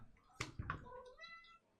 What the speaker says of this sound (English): Let me just let the cat out real quick.